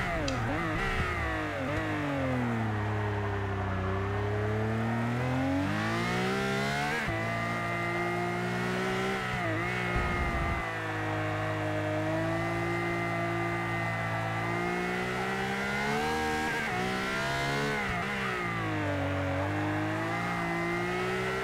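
GT1 race car engine in Forza Motorsport 6, loud and continuous, revving up through the gears with rising pitch, brief drops at each shift and occasional tire squeal, with no talk.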